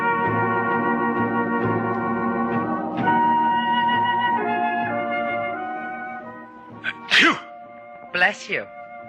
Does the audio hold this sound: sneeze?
yes